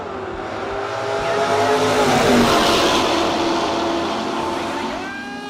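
A Plymouth Duster and a Chevrolet Camaro drag race at a no-box event, their engines building into a loud sustained roar that peaks midway and slowly fades as they pull away.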